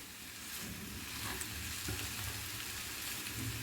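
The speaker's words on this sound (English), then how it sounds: "I will fry on low flame" Spring onion whites fry in oil on a low flame for a raw jackfruit dry fry, giving a steady, even sizzle that runs close and unbroken throughout with no voices.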